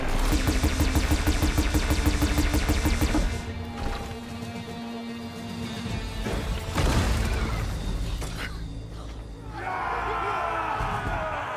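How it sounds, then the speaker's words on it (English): Cannon fire in the Horizon Forbidden West battle at the Kulrut, heavy booms and crashes layered over loud game music and effects, with shouted voices in the mix. "Fire the cannon!"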